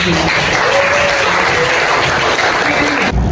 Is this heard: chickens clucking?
no